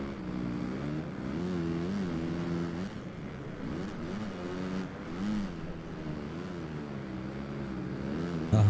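An MX2 motocross bike in MXGP Pro rides through a tough section on the Ernee, France track, its engine rising and falling in repeated throttle swells and blips, close and steady with no talking.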